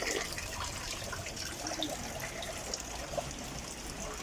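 Cold drinking water runs from a tap at Ain Asserdoun near Beni Mellal, Morocco, a soft steady trickle and splash heard faintly and alone, with no voices.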